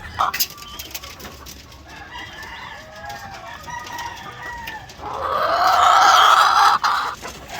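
A hen clucks and murmurs close by, then a louder, drawn-out squawking call rises near the end, with faint background noise throughout.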